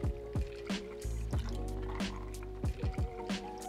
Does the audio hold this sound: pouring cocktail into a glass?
yes